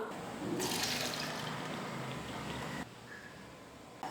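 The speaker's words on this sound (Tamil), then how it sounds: "இப்போ இதில் இருக்கிற எக்ஸ்ட்ரா தண்ணியை வடித்து எடுத்துக்கலாம்" Water from cooked chana dal is poured off in a steady, splashing stream that runs for about two seconds, then stops, leaving quiet drips.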